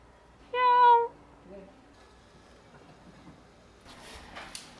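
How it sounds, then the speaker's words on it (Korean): A kitten gives one clear, short, tonal meow near the start, followed by faint rustling and a brief soft noise burst near the end in a quiet yard. "새끼 고양이랑 엄마잖아."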